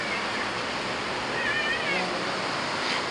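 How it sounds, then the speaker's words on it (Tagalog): Water splashes and runs steadily nearby in heavy rain, a continuous broadband wash with a faint tonal squeak partway through. "Tumatalsik yung tubig."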